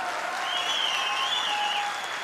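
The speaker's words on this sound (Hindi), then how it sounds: "एक जोरदार तालियां होनी चाहिए।" A crowd applauding steadily, dense clapping that fills the space evenly, with a few whistles rising over it.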